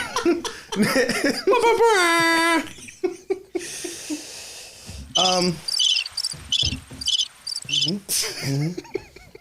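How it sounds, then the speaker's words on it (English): Bursts of cricket chirping in rapid, pulsing clusters, mixed with giggling, laughter and breathy vocal sounds, fairly close and loud. "crickets. They're not birds."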